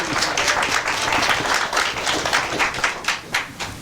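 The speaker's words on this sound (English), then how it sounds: "I want to have a little round of applause for LuAnn for last night's banquet." Meeting attendees give a short round of applause for a colleague, close and fairly loud clapping from a modest group that swells and trails off raggedly.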